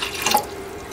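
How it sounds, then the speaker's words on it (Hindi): Two cups of water pour into a pot for making kadak chai, a short, loud splashing gush up close that swells briefly and then trails off into a softer trickle. "ये मैं फ़िलहाल 2 कप पानी डाल रही हूँ।"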